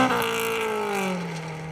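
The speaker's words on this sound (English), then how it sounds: "That's the Road Rally Class BMW 318 Ti." BMW 318 Ti Road Rally Class car on a Plains Rally stage in the Welsh Rally Championship, its engine note loud and steady, slowly falling in pitch as it passes close and draws away, with no talk.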